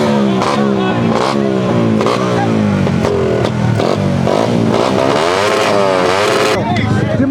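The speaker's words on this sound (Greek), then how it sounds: "Τι μαρσάρισε, ρε." Motorcycle engines rev hard and loud in repeated rising and falling bursts, close by, with voices audible among the roar.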